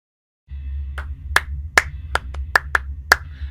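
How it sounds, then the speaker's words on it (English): A few sharp hand claps ring out in an irregular run over a low steady background hum, each one crisp and close, with no talking. "Had to clap a little bit."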